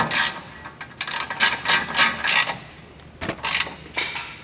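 A ratchet with a 19mm socket tightens the outer tie rod nut on a Honda Civic during a front wheel bearing job, giving bursts of rapid clicking strokes with pauses between them, close and fairly loud.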